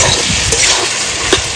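Bottle gourd cooked with fried prawns is stirred in a hot pan, giving a loud, close, continuous sizzle with soft scraping strokes and no talking.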